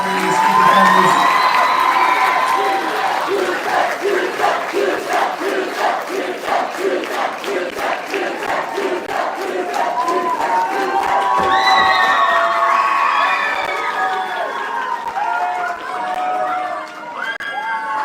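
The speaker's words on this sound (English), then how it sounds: "One more big round of applause to our extemporaneous speaker families" A large crowd of families cheers and applauds loudly at a Texas debate tournament finals, with whoops and shouts rising over steady clapping that carries on throughout.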